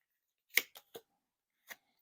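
Tarot card drawn from the deck and laid down: a handful of short, soft papery slaps and flicks separated by near silence, fairly close.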